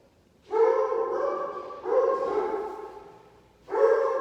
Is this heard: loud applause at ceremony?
no